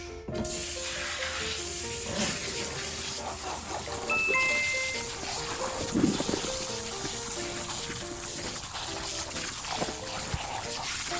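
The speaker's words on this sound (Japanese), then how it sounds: "洗っていきましょう" Cold tap water runs in a steady, close rushing spray while a Hokkaido Ginsei salmon is washed at a sink, continuous throughout with faint tonal sounds in the background.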